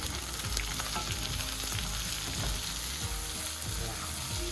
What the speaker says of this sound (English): We turn the onions right deep in pork over like that.